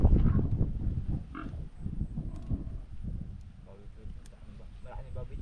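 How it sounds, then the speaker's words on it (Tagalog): Pigs on a farm near a kangkong patch, grunting and snorting in rough overlapping bursts close by, mixed with people talking throughout. "Maraming baboy din."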